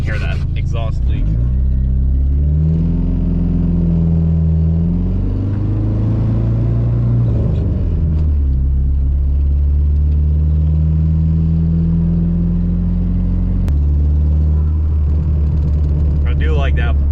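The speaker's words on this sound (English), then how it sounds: "You guys can hear that exhaust leak." A Dodge with a T56 six-speed manual runs close by, its engine rumbling and revving through an exhaust leak, rising and falling in pitch with some turbo flutter. A person talks over the engine.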